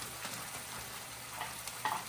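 Two pounds of ground beef hamburger frying in a pan, giving a steady, moderately quiet sizzle with a few soft stirring scrapes near the end.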